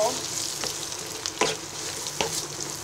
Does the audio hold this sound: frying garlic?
yes